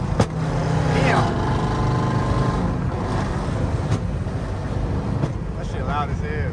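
A 5.7 Jeep drives through rain, its loud engine roar blending with a steady wash of road and wind noise as someone speaks over it.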